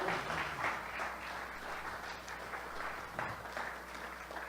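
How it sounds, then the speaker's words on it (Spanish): A church congregation applauds together, a steady wash of many hands clapping at moderate volume for several seconds with no voices on top. "Denle un aplauso a Dios, aleluya."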